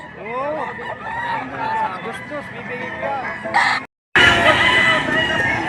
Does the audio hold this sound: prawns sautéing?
no